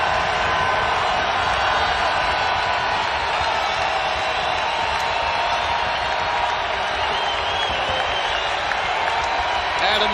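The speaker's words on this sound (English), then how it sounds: "Here comes the Dome crowd." Syracuse basketball crowd inside the Carrier Dome roaring steadily as a dense, loud wall of cheering that holds for the whole stretch, with a game commentator's voice running over it.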